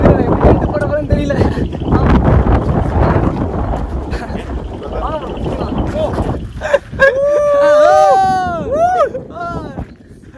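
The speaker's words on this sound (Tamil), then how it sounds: "காத்து செமையா அடிக்குது." Strong wind gusts roar across the microphone on a boat at sea, a loud constant rush with low rumbling, while people talk and sing over it near the end.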